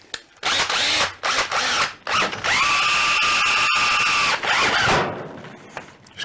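A DeWalt cordless drill drives a lawnmower hoist to lift the front of a Scag 52-inch Freedom Z mower, whirring loudly in a few short bursts and then one long steady run.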